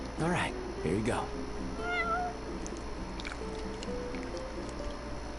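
Cat meows from the video game Final Fantasy XV, a couple of plaintive mews over game music, with people talking around them.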